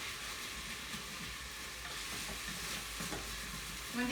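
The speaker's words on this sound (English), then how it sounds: "When this is cooking, I'm scraping the bottom of the pan as much as possible" Bacon and onions fry in a pan, a steady low sizzle with scattered scraping and stirring scrapes of the pan bottom, close and fairly quiet, with no talk.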